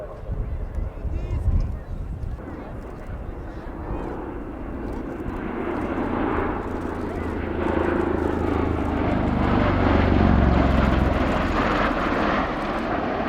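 A USAF CV-22 Osprey tiltrotor flies at a military airshow, its broad droning rotor and engine roar building steadily louder as it passes close, with a voice talking over it throughout.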